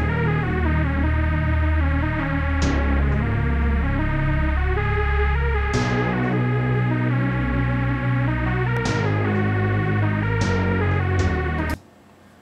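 A produced beat intro with a lead synth melody over a deep bass line, steady and full throughout, with percussive accents, cutting off abruptly near the end.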